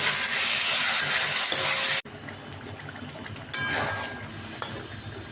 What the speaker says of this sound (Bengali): এবার এই আলু আর কোপ্তাটা সাথে দিয়ে দিলাম।